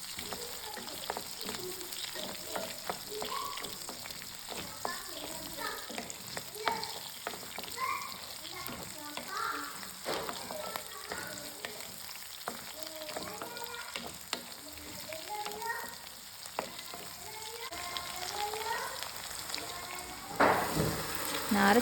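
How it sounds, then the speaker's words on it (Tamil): Onions sizzle and fry steadily in hot oil in a pan for a traditional Tamil matthi fish curry, with occasional stirring and a continuous crackle throughout, no talking. "நான் ஹாஃப் எடுத்து வச்சிருந்த ஆனியனை போட்டிருக்கேன். சும்மா 2ஆக கட் பண்ணி போட்டுக்கிறேன். கொஞ்சம் நல்லா வதங்கட்டும்."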